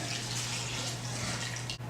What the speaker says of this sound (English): And enough filtered water to cover the squash.